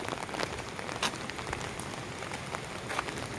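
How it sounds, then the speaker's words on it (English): Steady rain falling in a residential subdivision of Davao City, a continuous soft patter on surfaces with occasional louder drops, fairly quiet and without voices. "The rain has come, but rain is blessings."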